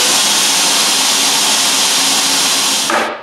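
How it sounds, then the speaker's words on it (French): A loud, steady old CNC machine motor drones with a broad whirring hiss in a woodworking shop, running continuously before cutting off abruptly near the end. "je vais partir mon ancien moteur."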